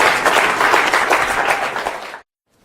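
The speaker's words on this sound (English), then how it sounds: "Give them both a round of applause, please." Loud, steady audience applause for two volunteers at a live mentalism performance, sustained for about two seconds before cutting off abruptly into silence.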